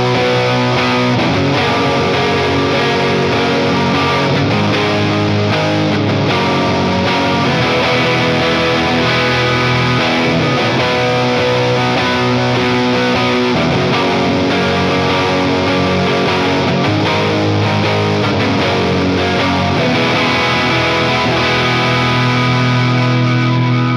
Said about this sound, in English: And I just play big open chords at the bottom.